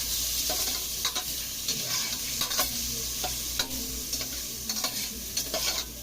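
Cabbage and sweet potato sautéing in oil in a pan, a steady sizzling hiss with repeated sharp splatter pops and stirring scrapes throughout, fairly close.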